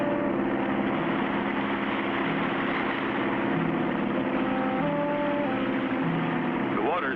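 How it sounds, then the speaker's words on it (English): A cartoon boat engine runs steadily, holding the boat against the river current just above a waterfall; a continuous low droning hum that stays loud and even throughout. "We'll keep the engine running to force us against the current and hold us from going over the falls."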